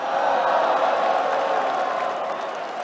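A large crowd keeps up a steady, dense roar of cheering and clapping at the League of Legends Worlds Season 6 award ceremony.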